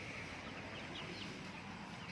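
Young two-month-old chickens scattered across an outdoor farm run, clucking and chattering steadily, a dense continuous flock murmur close by, with no voices over it.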